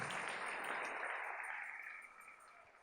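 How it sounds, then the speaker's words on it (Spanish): Church congregation applauding together, a broad continuous wash of clapping that holds steady and then gradually thins and fades toward the end. "Denle ese aplauso al Rey."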